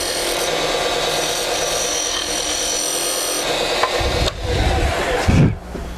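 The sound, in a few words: skew chisel scraping wood on lathe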